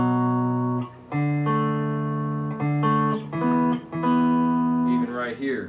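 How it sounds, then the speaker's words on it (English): Two-note electric guitar power chords from a riff ring out in sustained, distinct blocks, each chord held for a beat or more before sliding to the next, loud and clear with no other sound. "you can hear that there's only 2 notes being played in one of the power chords"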